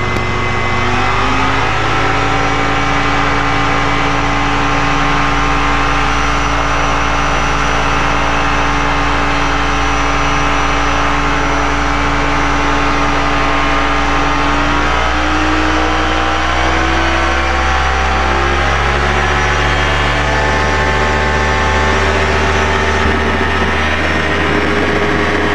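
Quad-class light aircraft engine on the South Lakeland runway holds a loud, steady drone, then its pitch shifts as power changes, close and sustained for the whole stretch without talk.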